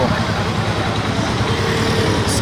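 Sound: Skygo Earl 150 motorcycle riding

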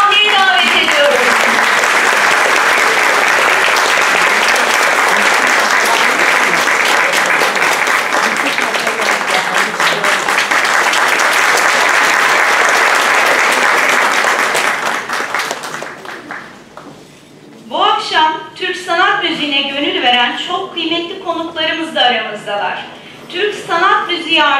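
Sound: audience applause

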